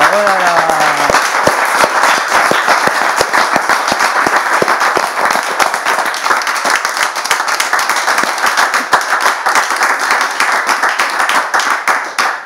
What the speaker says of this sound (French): Bon, on va essayer de l'applaudir.